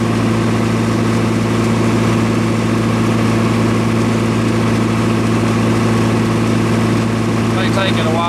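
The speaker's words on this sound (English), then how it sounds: "Let's put the load back on it. That's obviously starting a compressor." A MEP-004 military diesel generator runs under load from a starting compressor, giving a loud, steady low hum with strong tonal drone throughout; a brief rising whine near the end.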